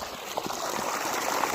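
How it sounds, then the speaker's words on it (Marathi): Water rushes out of a motor pump that has just been switched on beside a wheat field. The flow is a close, steady gush that holds at a constant level. "हे पहा मित्रांनो पाणी चालू केलं आहे आम्ही"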